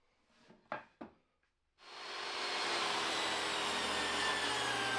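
A table saw rips lengthwise through a 2x4 board with the blade set to 1.5 inches, giving a loud, steady, continuous whine after a few short knocks of handling the wood.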